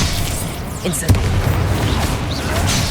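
Incendio fire spell cast in Hogwarts Legacy, a sudden whooshing burst with a sharp boom near the middle, set against a dense rumbling game soundscape of combat noise.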